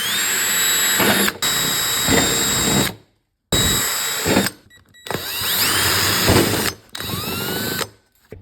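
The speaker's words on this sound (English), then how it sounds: "But let's get these holes drilled." A power drill whines in several long bursts, separated by brief silences, loud and close as it bores holes for a body kit on a Toyota GT86.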